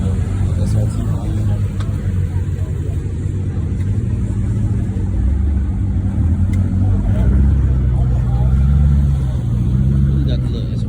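Audi R8 sports car engine at a car meet, a steady low rumble with revving swells running throughout, with people talking nearby over it.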